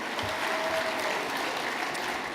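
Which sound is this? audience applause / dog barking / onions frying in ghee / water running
audience applause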